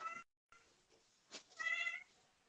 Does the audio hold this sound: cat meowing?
yes